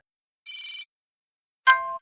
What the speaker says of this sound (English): Jamie's calling us again.